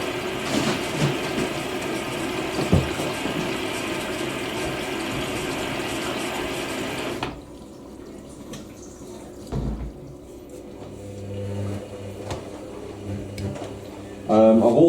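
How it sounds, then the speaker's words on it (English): A plastic bottle being rinsed out with running water, a loud steady splashing and gushing that stops abruptly halfway, leaving quieter dripping and faint clatter; muffled talk sits underneath. "So rinse out this bottle, and it can be recycled."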